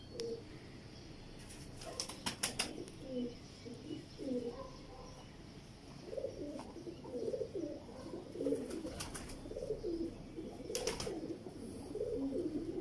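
An old pigeon coos in soft repeated phrases, fairly close, with a few sharp clicks and flaps among the cooing and a steady low background hum.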